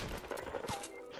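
Gunshots from a pump shotgun in the Fortnite Battle Royale video game: a short, sharp cluster of blasts that stays close and loud across about a second, with no talking.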